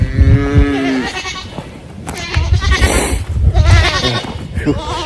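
Several goats bleat loudly and close by at the start, followed by more scattered animal calls and low rustling, with a bit of muffled voice in between.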